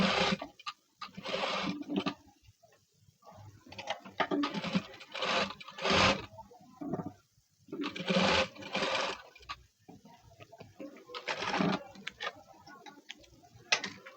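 Sewing machine stitching a blouse with double piping, heard as fast mechanical ticking and whirring in irregular bursts with short pauses, close and moderately loud.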